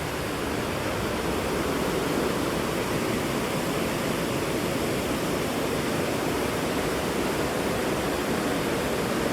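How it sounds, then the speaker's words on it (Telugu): A river near Gaurikund in the Himalayas rushes in a steady, dense roar. It holds an even loudness throughout with no voices. "నైట్ మొత్తం ఇట్లా ఇదే వాటర్ సౌండ్, విపరీతమైన సౌండ్ ఉండే."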